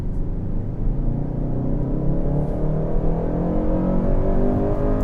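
A 2025 Kia K5 EX engine revs hard under acceleration, a loud, steady rising drone with a rumbling low end that climbs in pitch throughout, with no talk over it.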